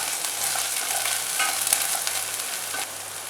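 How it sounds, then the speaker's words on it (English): Chopped onions fry in a pan with a dense, steady sizzle and occasional stirring taps, heard up close with no voices. "I'm going to cook till the onions are slightly brown."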